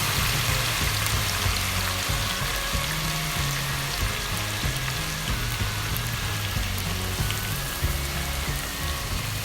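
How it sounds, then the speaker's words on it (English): Dense, steady crackling and sizzling of potato chips frying in hot oil, continuous and close, with a faint low hum underneath. "You just have to take note when it's frying"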